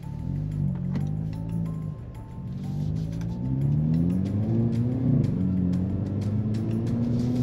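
Two cars, a 2022 VW Golf GTI and a 2022 Hyundai Kona N, accelerating side by side in a roll race, engines rising steadily in pitch through the gears with loud, continuous close-up rumble and a brief dip mid-run.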